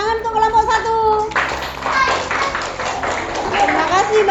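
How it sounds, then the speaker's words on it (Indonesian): Children in an Indonesian primary school classroom break into loud, scattered applause for a group after a math activity, with a teacher's voice talking before and over the clapping. "Tepuk tangan untuk kelompok 1."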